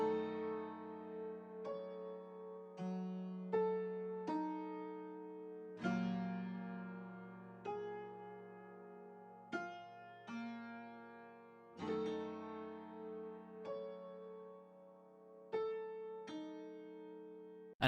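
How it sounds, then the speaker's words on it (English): Layered upright piano sample in a vintage 80s R&B style with a wavering flutter, sparse chords and single notes struck about every two seconds, each ringing and decaying cleanly, played alone. "I wanted to add this like wing upright piano that I layered on top"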